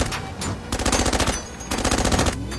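Sniper gunfire in the animated film Appleseed Alpha arrives as rapid rattling bursts of shots, two loud sustained volleys separated by a brief lull, close and harsh.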